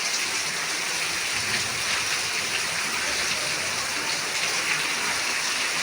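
Heavy rain pours down in Tiruppur, a loud, continuous wash of dense droplets nearby that holds steady throughout.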